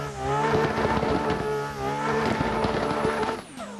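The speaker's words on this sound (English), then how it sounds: "I just love how this car sounds" Race car engine in the RIGA 2022 racing game, a loud sustained high-revving tone with shifting pitch and a tire squeal, continuous and close for nearly four seconds.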